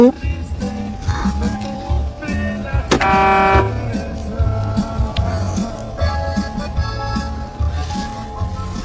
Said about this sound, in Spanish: los agentes tocan el claxon para hacerla reaccionar